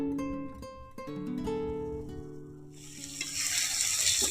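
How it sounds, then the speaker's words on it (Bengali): Chopped onion fries in a wok with garlic paste and whole garam masala. Sustained tones come first, then a loud, hissing sizzle rises and holds to the end. "পেঁয়াজটাকে লাল লাল করে ভেজে নেব।"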